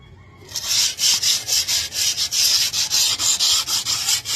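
Rhythmic, close sanding strokes of sandpaper scrubbing rust off a metal chair rasp back and forth about three times a second, loud and steady with no talking.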